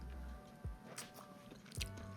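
Salted egg crab is chewed and bitten in a quiet room, with soft, faint crunches and moist chewing sounds spaced a moment apart.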